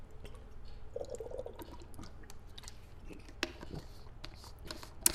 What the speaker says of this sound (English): As I drink my water here.